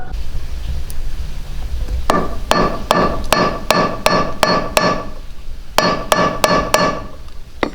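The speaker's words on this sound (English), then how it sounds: "we hammered this little aluminum bushing on here" Sharp metallic hammer strikes on a small aluminum bushing on a 1998 Jeep Cherokee XJ, about a dozen ringing blows in two quick bursts with a short pause between.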